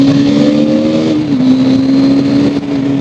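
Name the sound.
new 2022 KTM motorcycle engine revving, stock exhaust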